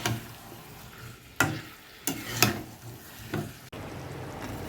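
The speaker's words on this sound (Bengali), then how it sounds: "এবার ভালো করে কষিয়ে নেব মাংসটা" Chicken pieces with potatoes sautéed in a pan, giving a soft sizzle with a few louder scraping stirs spaced apart, fairly quiet and close, no talking.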